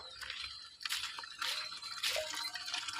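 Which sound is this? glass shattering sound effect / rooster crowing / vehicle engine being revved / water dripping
water dripping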